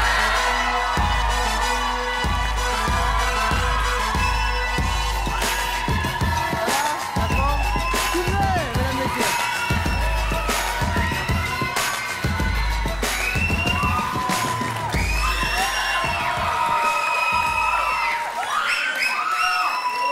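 A lively television studio audience greets a singer with loud, sustained cheering, whoops and shouts over a pounding music track with a steady beat, the crowd noise filling the whole stretch.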